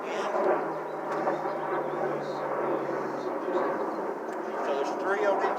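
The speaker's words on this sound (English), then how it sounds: "There comes the airplanes again." An airplane passes overhead as a steady, broad roar at moderate distance while someone works on a Gravely 148z mower with a long wrench. The drone holds evenly throughout, with someone talking over it.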